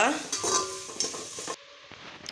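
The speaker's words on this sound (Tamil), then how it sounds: "இப்போ வெங்காயம் சேர்த்துக்கலாம் நீல வாக்கில் கட் பண்ணி வச்ச ரெண்டு பெரிய வெங்காயம்" Two large onions, sliced lengthwise, sizzle in a pan for brinji rice while a spoon scrapes and stirs them in several quick strokes. The frying cuts off abruptly near the end, leaving near silence.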